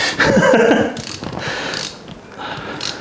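A self-tapping screw cuts its own threads while a Bambu P1P 3D printer is assembled, giving close, loud grinding and ratcheting creaks in short uneven bursts with brief pauses between turns.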